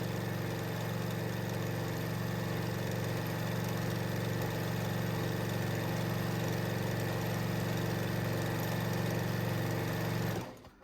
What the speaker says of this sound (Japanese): この返し縫いのねレバーを使って穴を塞いでますね。